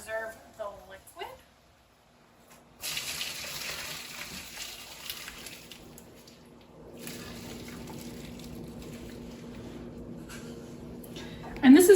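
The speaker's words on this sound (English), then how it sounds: "I'm going to drain the zest and reserve the liquid." Hot liquid drained off simmered orange zest for marmalade, a running pour that starts after a pause, lasts several seconds, then continues more softly, with a voice at the start and end.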